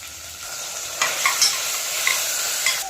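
Onions and ginger garlic paste fry in ghee for a mushroom biryani, with a continuous close sizzle and a few scraping stirs of a spoon in the pan.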